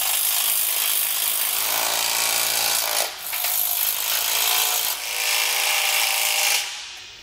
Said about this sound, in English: Now we're going to go around and get all of the bolts tightened down.